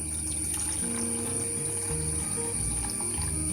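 Water is poured into a pressure cooker holding washed lentils and salt, giving a steady, close rush of liquid that runs unbroken from start to finish.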